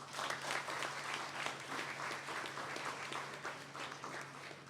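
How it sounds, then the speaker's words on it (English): Debate audience applause fills the room with dense, steady clapping from many hands, continuous and moderately loud throughout with no break. "Please, a round of applause for the two teams"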